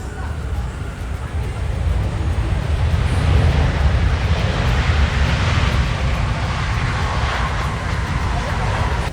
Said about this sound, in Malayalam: ലുഫ്താൻസയുടെ 350 ആണ് വന്ന് ലാൻഡ് ചെയ്യുന്നത്